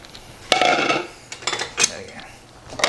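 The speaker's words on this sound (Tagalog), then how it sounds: "Halu-haluin mo lang yan." A utensil stirs pancit noodles in a pan, scraping and clinking against the metal in a few short irregular bursts, close and fairly loud.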